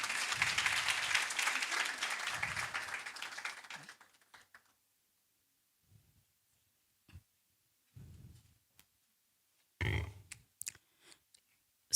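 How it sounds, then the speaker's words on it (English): At a university research day, the audience claps for the next presenter, steady applause for about four seconds that stops abruptly, followed by near silence with scattered soft clicks and small bumps. "And colleagues, kindly, let's clap hands."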